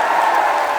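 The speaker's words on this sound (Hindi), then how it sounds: "ताली बजाइए हाथ उठा के एक बार।" A brief burst of audience applause at a Hindi kavi sammelan poetry event, a dense wash of clapping from a crowd lasting under a second.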